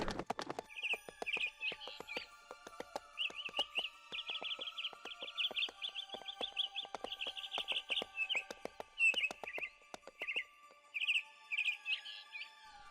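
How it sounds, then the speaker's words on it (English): Small birds chirp in quick, bright bursts for the whole stretch in a fantasy audio comic, repeated high tweets spaced fairly evenly, alongside a rhythmic clopping like hooves. "But where are the birds leading us?"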